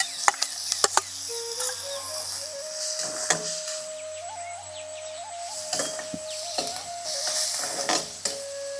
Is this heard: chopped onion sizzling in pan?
yes